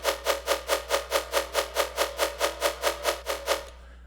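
Riddim synth bass run through a short delay, a rapid, even pulse of about fifteen rumbling wobbles repeating at a steady rate, loud and dry, stopping abruptly near the end with no voices.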